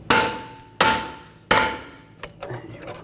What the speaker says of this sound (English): Now I take a hammer and you can give it a tap around the rotor.